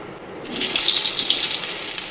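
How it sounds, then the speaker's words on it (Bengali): Potatoes dropped into hot oil left from frying lentil fritters (bora), a loud steady sizzle and hiss that bursts in after a quiet start and holds close. "এবার এই তেলের মধ্যে আমি আলুটাকে ভেজে নেব।"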